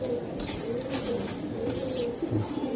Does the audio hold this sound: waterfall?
no